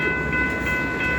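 A freight train reverses slowly out of a rail yard near a grade crossing, its steady rumble and faint tonal whine carrying at moderate distance, with no voices.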